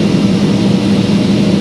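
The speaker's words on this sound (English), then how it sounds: "we've got two John Deere's on today, 2155Rs" Steady, loud low engine drone from a John Deere 2155R tractor running on a farm while beans are unloaded, a continuous rumble with no talk over it.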